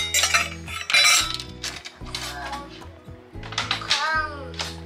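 Metal pots, pans and utensils clatter and clink close by in repeated bursts as they are handled, while a voice chatters over them.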